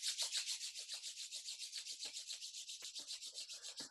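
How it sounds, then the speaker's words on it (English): Palms of the hands rub together briskly in a quick, even back-and-forth rhythm, a close, soft swishing friction repeated many times without pause. "just rubbing the palms together."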